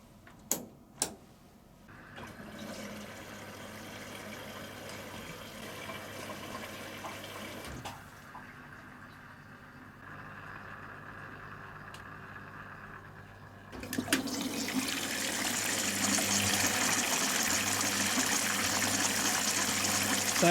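A Philco PA207 washing machine filling with water, two sharp clicks first, then a low hum and trickle that swells into a steady rushing inflow near the end.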